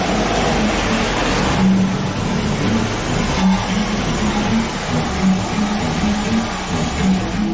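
A VW Gol car is driven into a garage, its engine note rising and falling steadily for several seconds and close by, with no talking.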